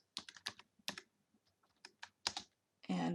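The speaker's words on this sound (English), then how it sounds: "And now I want to hit type email." Keystrokes on a computer keyboard as an email address is typed, a quick irregular run of close, crisp clicks with short pauses, ending in a denser burst of rattling key presses.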